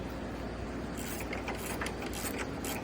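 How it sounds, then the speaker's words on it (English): A ratchet wrench tightens a nut on a stainless steel meter housing, giving a steady run of close, rapid clicking from the pawl that continues without pause, with no talking. "I like to use a ratchet wrench, and I just tighten it."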